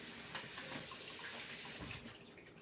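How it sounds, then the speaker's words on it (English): Running tap water rinses something at a kitchen sink, a steady hiss of flow that is faint and close, then eases off near the end. "rinsing that off."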